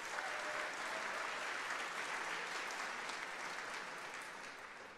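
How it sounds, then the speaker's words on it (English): Applause from a hackathon audience at a closing ceremony, a steady wash of many clapping hands held throughout and easing slightly toward the end, with no talk over it. "can we all give a round of applause to the organizers who worked really hard?"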